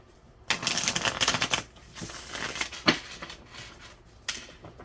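Tarot cards being shuffled up close in several quick riffling bursts, rapid papery flutters separated by brief pauses, with no talking.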